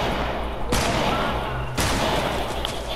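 Sniper fire in a video game: two sharp broadband cracks about a second apart ring out over a steady bed of game noise, with faint voices underneath.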